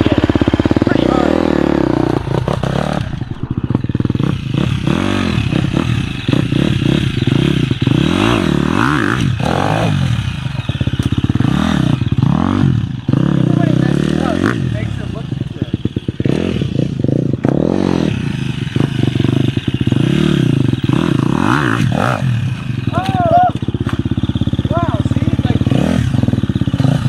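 Enduro motorcycle riding over technical terrain, with the engine revving hard in repeated surges and drops close by, plus clattering and scraping of the bike over obstacles, loud and continuous throughout.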